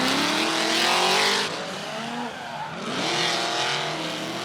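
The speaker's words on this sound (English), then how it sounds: "What a noise coming from that twin supercharged V8 under the bonnet of Brad Toohey's car" A twin supercharged V8 race car roars loudly during a qualifying battle, its engine note rising and falling as it passes, with a second car's engine coming through alongside and no commentary over it.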